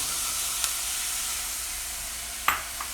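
Chopped chicken hits a pan of quickly sautéed onion, producing a steady close sizzle with a couple of brief clinks or scrapes near the end, no talking.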